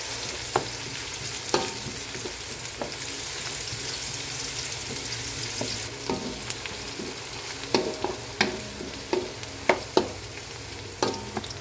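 Garlic and onion fry in a pan for chicken tinola, a steady close sizzle with a string of sharp spatula taps and scrapes that grow more frequent toward the end.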